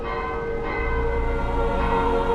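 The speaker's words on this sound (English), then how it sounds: "orders came to the hunchback to toll the death knell." The great church bell of Notre Dame tolling a death knell, a deep, sustained metallic ring with lingering overtones that hum on without a break.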